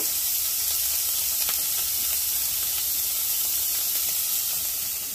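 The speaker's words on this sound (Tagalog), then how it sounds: "Dyan na natin ilagay sa yung sibuyas at saka bawang." Chopped onion and garlic sizzle in a pan over a strong flame, a loud, steady, broad hiss that holds without a break and has no voices over it.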